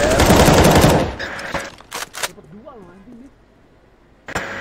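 Automatic gunfire bursts in CS:GO competitive play, a dense loud volley at the start, then a few sharp isolated shots and a final burst near the end, with a voice speaking over the quieter middle.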